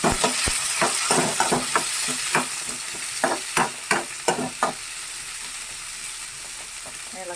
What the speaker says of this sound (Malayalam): കൊച്ചുള്ളി ഇട്ട് ആ കൂട്ടത്തിൽ ഞാൻ പച്ചമുളകും കൂടി ഇട്ട് പച്ചമുളകും ഇട്ട് ഇളക്കി കൊടുക്കണം